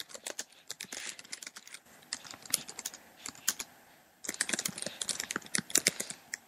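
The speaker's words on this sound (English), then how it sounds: "So I'm actually typing and I am live now." Rapid clicking of a computer keyboard, close and continuous, with a brief lighter pause midway before the typing picks back up in a quick burst.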